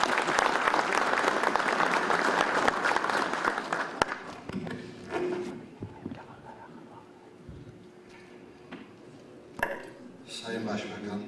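At a general assembly of the Circassian Associations Federation, an audience greets a member of parliament with dense, loud applause for about four seconds, which then thins out. A voice speaks over the quieter remainder.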